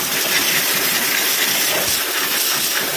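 A steam cleaner sprays a dirty motorcycle coated in hardened oil and mud, producing a loud, continuous, close-up hiss that holds steady throughout with no talking.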